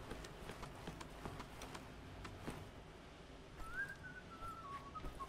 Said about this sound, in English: Hear this dude whistling.